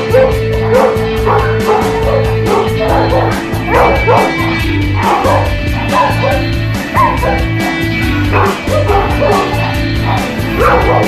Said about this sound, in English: I think I'm just going to let them bark.